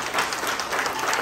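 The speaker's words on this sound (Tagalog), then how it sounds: "Pumalakpak tayo sa Panginoon" Church congregation applauding together for the Lord, a steady wash of many hands clapping at moderate distance without pause.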